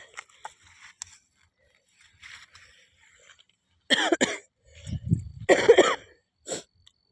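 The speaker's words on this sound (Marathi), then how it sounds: "सर्दी खोकला" A person with a cold gives two short bursts of harsh coughing, close and fairly loud, in a brinjal field during harvest, after several seconds of faint background rustling.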